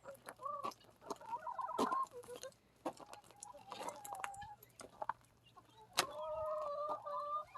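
A rooster crows several times on a homestead during a winter storm, with clucking hens close by; the calls are loud and nearby, broken by short quieter gaps.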